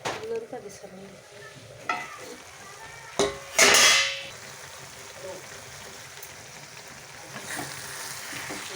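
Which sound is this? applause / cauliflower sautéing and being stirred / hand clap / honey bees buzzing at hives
cauliflower sautéing and being stirred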